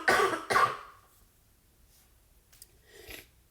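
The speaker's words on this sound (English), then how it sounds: "I apologize for the coughing" Two sharp, loud coughs from a person at the start, then a quieter cough-like burst near the end with near silence between them.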